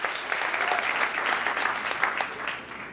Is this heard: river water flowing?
no